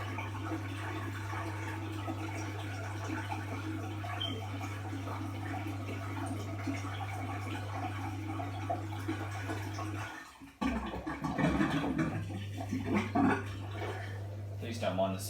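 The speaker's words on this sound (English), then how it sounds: "Please don't mind the sink noises." Water runs steadily from a sink beside an LG F1496AD5 washing machine during a post-drying rinse, a constant wash of flow over a low machine hum that briefly cuts out and resumes with rougher splashing.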